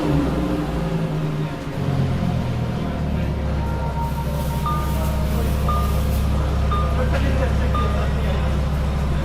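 A Lamborghini Huracan STO at a launch event fires up and settles into a loud, rumbling engine drone with low revving throughout, joined by faint high electronic beeps from the car.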